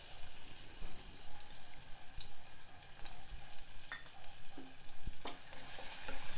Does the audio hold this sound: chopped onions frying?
yes